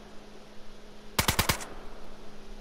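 A quick burst of about four sharp gunshots from the DayZ video game rings out moderately loud over a quiet hum, then stops as suddenly as it began.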